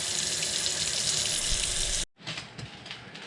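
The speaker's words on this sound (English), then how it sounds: "Get it in the sink, then rinse it off" Water from a faucet runs loudly into a sink while poke salad leaves are rinsed, cutting off abruptly partway through and then resuming as softer, uneven splashing.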